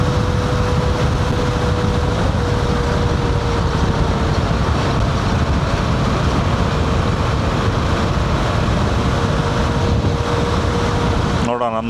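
A KTM Adventure 390X motorcycle rides up the Agumbe ghat with a constant engine drone and heavy wind rush close to the rider, steady throughout, while the rider talks over it.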